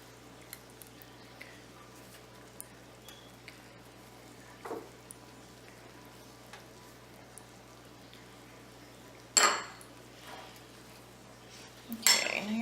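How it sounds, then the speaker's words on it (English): Utensil stirring Cajun seasoning, salt, pepper and hot sauce in a pan for bourbon chicken Alfredo: sparse light clinks and scrapes over a steady low hum, with a few louder metallic knocks near the end. "now you're just going to make sure you get that stirred up really well"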